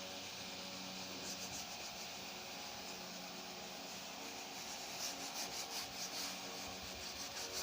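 Chalk or writing being rubbed off a classroom board with a duster, a soft continuous scrubbing and rasping that comes in uneven strokes, fairly faint and with no voice.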